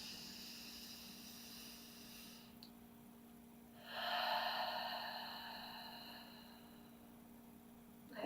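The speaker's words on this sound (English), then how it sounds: "when we take that full deep inhale in" A single full, deep breath drawn in slowly through the nose, a soft, airy rush that swells and then fades over a few seconds, close and quiet against a faint steady hum, with no talking.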